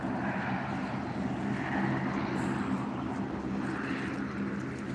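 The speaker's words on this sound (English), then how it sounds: "So I can see very clearly the plane from here." A propeller airplane drones steadily near Billy Bishop Airport on the Toronto waterfront, a broad continuous engine roar that holds even and fairly loud throughout with no voices.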